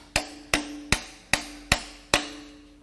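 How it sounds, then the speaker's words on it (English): Six sharp metallic taps at an even, steady pace, each ringing briefly, as a hammer drives a socket onto a crank pulley puller on a Toyota 2JZ engine. Loud and close, with quiet in between. "I actually need to give this a little tap, get that socket all the way on there."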